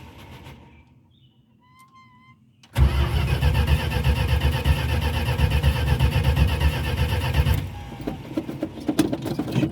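A Dodge Duster's engine cranks briefly, then catches and starts, settling into a loud, steady run close by with a rough, uneven edge.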